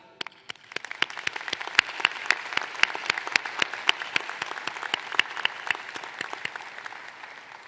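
An audience applauds nursing graduates at a university nursing school pre-commencement ceremony, dense sustained clapping with sharp individual claps standing out, steady throughout.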